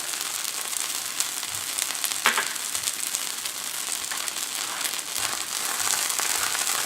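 A flaxseed tortilla wrap cooks in a greased pan, giving a steady soft sizzle and crackle close by, with faint occasional handling noises and no talking.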